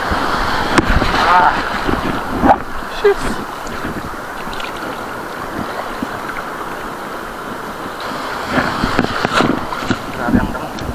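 Rough sea waves slapping around a small fishing boat, with gusty wind buffeting the microphone and a man's brief exclamations over the surging water.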